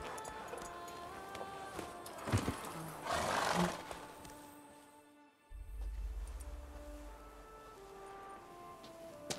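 A horse ridden in The Witcher 3 snorts and neighs amid hoof clatter and shifting game ambience, with a louder whinny partway through and a low rumble near the end.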